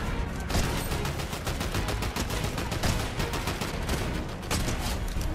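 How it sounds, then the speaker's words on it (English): Continuous rapid SMG fire in Fortnite during a fight with Legion guards, a dense unbroken stream of shots lasting several seconds, loud and close. "the SMG feels really good. It almost feels like an AR."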